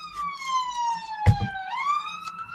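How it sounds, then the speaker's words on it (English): A police car siren passes by outdoors, its wailing tone sliding down and then rising again, fairly loud and close, with a brief thump partway through and no talking. "Another bloody police car going past."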